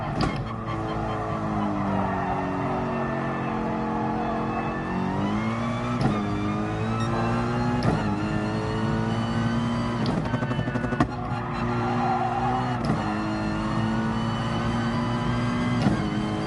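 Race car engine in Gran Turismo Sport revs and shifts through gears on a track, a loud steady whine rising and dropping with each gear change, with faint tire squeal.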